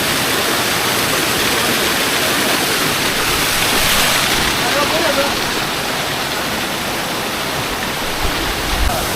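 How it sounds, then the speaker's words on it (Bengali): A waterfall at Sajek pours heavily, a loud continuous roar of crashing water heard close up, with a voice faintly audible beneath it. "ভালো পরিমাণে পানি পড়তেছে ঝর্ণা থেকে"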